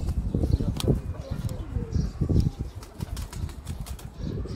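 An Indian Lakha pigeon beats its wings close by in bursts of soft, rapid flapping that come and go across several seconds.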